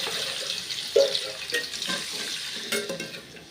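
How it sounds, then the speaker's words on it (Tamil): Ground masala paste of coriander, cumin, dried chili, tomato and coconut pours into a frying pan for drumstick sambar, a wet splashing sizzle with a few thuds and scrapes at close range. "அரைச்சி வச்சு நான் ஊற்றுது பாருங்கள்."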